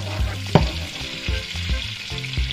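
Butter left from frying shrimp sizzles loudly in a pan, a close crackling hiss broken by several sharp spatter pops and light utensil clatter, with no voices.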